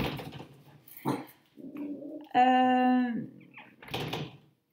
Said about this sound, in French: C'est les chiens.